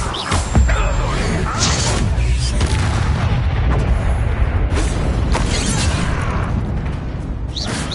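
Levioso and Protego spells cast in combat in Hogwarts Legacy, heavy booming magic impacts and bursts layered over dense battle noise, loud and continuous throughout.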